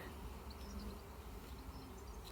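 Honeybees buzz at a beehive, a low and fairly quiet drone that holds steady throughout with no talking.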